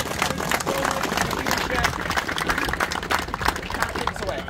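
A gathered crowd at a trail opening claps and cheers for Pat, dense continuous applause with scattered whoops and voices mixed in, close and lively throughout.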